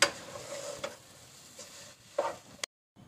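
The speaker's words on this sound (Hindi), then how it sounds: "ये मैंने आलू डालकर और इसे अच्छी तरह से अब मुझे मिक्स करना है।" Mashed potatoes and spices being stirred in a pan for samosa filling, a soft scraping stir with a faint sizzle underneath, a few sharper spoon knocks against the pan, then a brief silence at the end.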